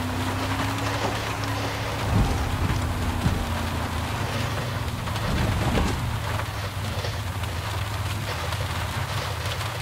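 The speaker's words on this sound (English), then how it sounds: "It's raining." Steady rain hiss in the video game Far Cry 6 runs throughout over a low engine hum, with a few brief louder swells and knocks; no talking.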